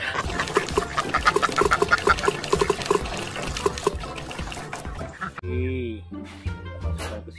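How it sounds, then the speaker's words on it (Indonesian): A toy duck quacks amid playful splashing and rattling with a child's toy truck, a run of loud rhythmic quacks followed by a sliding squeaky call, with talking and other noise around it. "Kita menemukan itik teman-teman"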